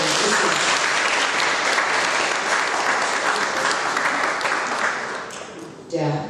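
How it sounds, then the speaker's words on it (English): Loud, sustained applause from an audience at a national moot court competition's final oral rounds, dense clapping that gradually fades before a voice briefly begins speaking at the end. "So let's just give them room to clap."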